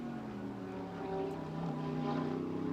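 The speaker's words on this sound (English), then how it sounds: "Listening to him roll into the throttle there at the exit of 1." A GT World Challenge America race car accelerates out of Turn 1 at Circuit of the Americas, its engine a loud, steady droning tone that rises gradually in pitch as the driver rolls onto the throttle.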